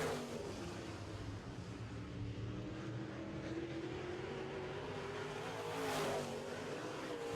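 Late model race cars roar around a track during a heat race, a steady blended engine drone with a distant, continuous quality and a slight swell near the end as cars pass.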